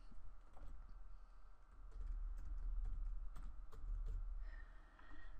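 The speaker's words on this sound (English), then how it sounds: "So I'm going to type in my password correctly now." Password typed on a computer keyboard, a steady run of soft key clicks close by, with no voices.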